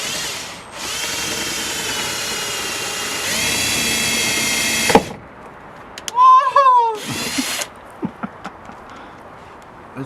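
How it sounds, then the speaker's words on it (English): A power drill driving splitter bolts into a Ford Fiesta ZS: a sustained high whine for about five seconds, then short revving bursts and clicks, with a voice speaking briefly in between. "what we've got to do is use the bad boy drill"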